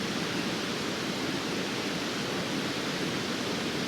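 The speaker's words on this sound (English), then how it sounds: "I don't want to drown out the whole video with the sound of the river." A river in snowy New Zealand mountains rushes in a constant, dense wash of noise, steady and fairly loud with no breaks.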